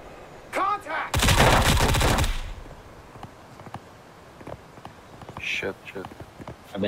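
A loud, sustained burst of rapid automatic gunfire lasting about a second in the military shooter game BRM5, followed by scattered sharp shots and voices talking over radio-style chatter.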